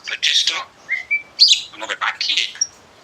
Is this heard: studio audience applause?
no